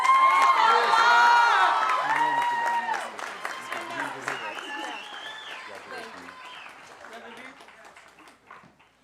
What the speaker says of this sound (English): Please join me in another round of applause for all of our special commencement prize winners